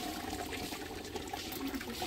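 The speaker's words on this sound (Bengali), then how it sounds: "চাল এখানে পোলাও রান্না হবে, ধোয়া হইতেছে পোলাওয়ের চাল" Polao rice is washed in water, with a continuous soft swish and trickle of liquid, fairly faint and steady throughout, with no voices.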